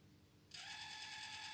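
HPRT MT53 compact thermal colour photo printer starting a print job, a sudden steady whirring buzz of the motor and feed mechanism beginning after quiet and running continuously close by.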